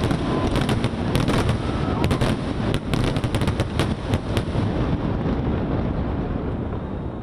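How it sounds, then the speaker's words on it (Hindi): New Year fireworks display at the Kuala Lumpur Twin Towers, Malaysia: a dense, continuous barrage of bursts and crackles with sharp pops clustered early, over heavy wind rumble, loud and sustained without pause. "नए साल की तकरीबात को चार चांद लगाने के लिए मलेशिया की बुलंद तरीन इमारत कुआलालंपुर ट्विन टावर्स पर शानदार आतिशबाजी का मुजाहरा किया गया।"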